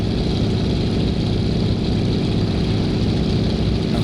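A de Havilland Beaver floatplane's radial engine idles in X-Plane 11, a steady, loud, low rumbling drone that holds evenly throughout with no voices over it.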